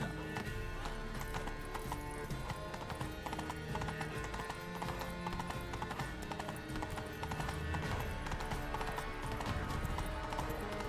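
Horse hooves clip-clopping at a steady galloping rhythm inside The Witcher 3: Blood & Wine, with an occasional neigh rising over a dense, continuous game soundscape of music and ambience at close range.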